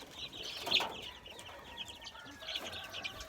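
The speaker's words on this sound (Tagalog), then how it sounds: "Mga sisiw na Bisaya ba, mga native ba?" Native Bisaya chicks and chickens cluck and peep softly at a distance, a few brief calls scattered over faint outdoor background noise.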